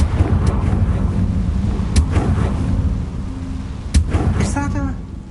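Confringo fire spell cast in Hogwarts Legacy, a couple of sharp blasting cracks with rumbling booms over a windy low roar, loud and close, with a brief voice murmur under it.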